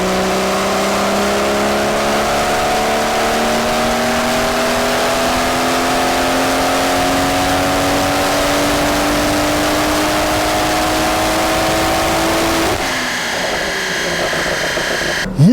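A BMW M140i with a hybrid turbo revs on a dyno. A steady, loud engine drone climbs gradually in pitch through one long pull, then cuts off abruptly near the end. No voices are heard.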